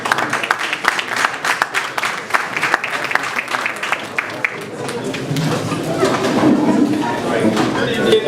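Audience applause welcoming a speaker at a Nigerian power-sector policy dialogue event, a dense steady patter of many hands that thins into a murmuring crowd, with a voice speaking over it.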